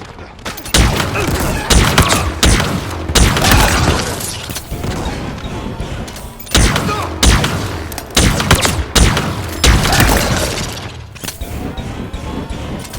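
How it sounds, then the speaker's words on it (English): Sniper rifle shots fired in the video game Halo Infinite during a multiplayer match, a string of loud, booming reports arriving in bursts every second or two over steady game noise and explosions. "Halo Infinite not only gives me a sniper rifle that I'm good with, it allows me to use a wide variety of them to get multiple kills."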